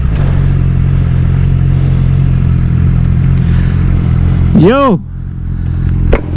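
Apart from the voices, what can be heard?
Suzuki GSX-R 600 motorcycle riding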